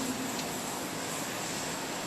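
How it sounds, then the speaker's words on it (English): French presidential plane landing, a steady broadband roar of aircraft engines and rushing air, constant and fairly distant throughout with no voices. "So this is the French plane landing in..."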